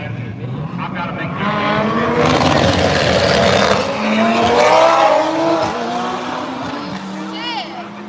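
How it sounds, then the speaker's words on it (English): Drag race car launching hard off brake boost at a racing event, loud engine roar with tire squeal and rising pitch, a crowd and voices audible in the background. "Sean, that was brake boost, right?"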